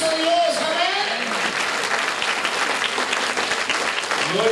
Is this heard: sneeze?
no